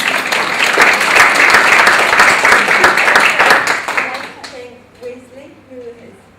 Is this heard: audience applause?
yes